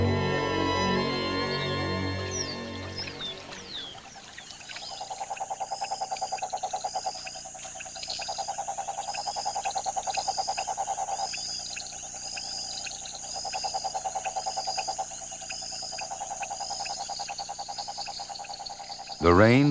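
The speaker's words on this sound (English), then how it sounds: "The rains continue falling over the Pantanal, and when the conditions are just right, the frogs begin to breed." Frogs call in the flooded Pantanal during the rainy season, forming a loud dense chorus of pulsing trills and croaks that rises and falls in waves, with insects buzzing faintly behind.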